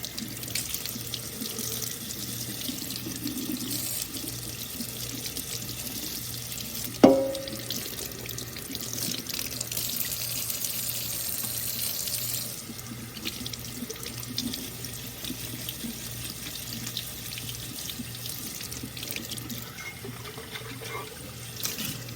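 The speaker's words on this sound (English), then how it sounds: "It's just an easy rinse." Tap water runs steadily into a sink while an etched mug is rinsed under it, a continuous close splashing hiss lasting the whole stretch, broken once by a short sharp knock partway through.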